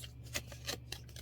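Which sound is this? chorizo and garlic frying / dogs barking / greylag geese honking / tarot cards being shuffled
tarot cards being shuffled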